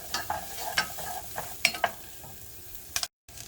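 Jalapenos frying and browning in a pan, a steady close sizzle broken by several sharp stirring scrapes, ending with a brief cut to silence.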